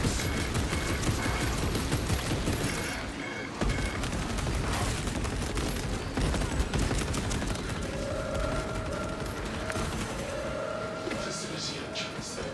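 Sustained firing of a servo harness gun in a Warhammer game, a continuous loud rattle of rapid shots with a brief pause, mixed with mechanical whirring, game effects and voices speaking over it.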